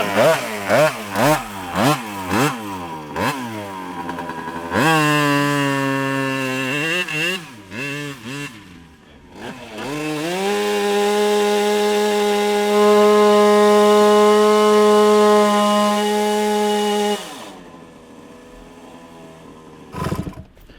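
A small 100cc engine revs in a string of quick bursts, then rises and holds a loud, steady drone as the clutch engages, before cutting off near the end.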